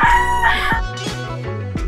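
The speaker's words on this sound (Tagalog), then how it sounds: "Yan ang mga manok ni Lolo Bal." Several chickens and a rooster crowing close by, belonging to a grandfather's flock, with repeated loud crows and clucking in quick succession and no talk over them.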